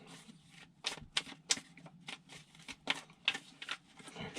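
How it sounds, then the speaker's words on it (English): Tarot cards are shuffled by hand, giving a quiet run of quick papery riffles and flicks at an uneven rhythm, close up. "One more shuffle, please."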